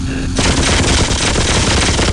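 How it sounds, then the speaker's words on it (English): Assault cannon in the Warhammer 40,000 Dawn of War game lets loose a sudden, loud, sustained burst of rapid-fire shots that keeps hammering without a break after a brief quiet start. "Assault cannon is hot."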